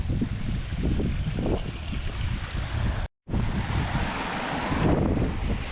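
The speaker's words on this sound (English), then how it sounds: "There's some cool little waterfalls here because the water just drops off the whole way along the valley." Steady rushing water from small waterfalls along a valley at Devil's Elbow, Glenshee, Scotland, roars close by, a broad continuous splashing wash with gusts of wind noise, briefly cutting out before resuming.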